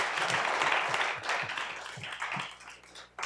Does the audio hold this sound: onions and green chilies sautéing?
no